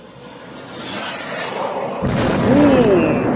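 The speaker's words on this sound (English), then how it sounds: "Yeah, that was jet powered. That was definitely a jet powered drone." A Peklo jet-powered drone flies overhead, heard as a rising broadband roar. It grows louder and fuller toward the end, with a faint whine sweeping across it.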